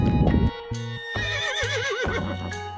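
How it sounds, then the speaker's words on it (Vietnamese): A white horse gives a loud, close, wavering whinny after a short burst of snorting, then settles into lower, steady calls. "Con ngựa bạch."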